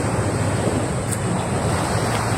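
Sea waves washing onto a beach on an early morning, a steady broadband surf roar with some wind buffeting the microphone, continuous and fairly loud with no speech.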